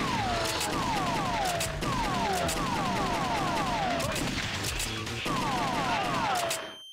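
Rapid gunshots in the arcade light-gun game The House of the Dead 2, loud bursts of repeated shots, each followed by a falling electronic chirp, continuing almost without a break.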